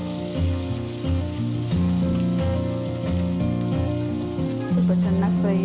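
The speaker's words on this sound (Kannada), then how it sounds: "ಒಂದು ಈರುಳ್ಳಿ ಹಾಕ್ತಾ ಇದ್ದೀನಿ ಸ್ವಲ್ಪ ಕರ್ಬೇವಿನ ಸೊಪ್ಪು ಸ್ವಲ್ಪ ಚೆನ್ನಾಗಿ ಫ್ರೈ ಆಗಲಿ" Onion and curry leaves frying in a hot pan, a loud continuous sizzle close up with tonal hum and music-like tones running underneath.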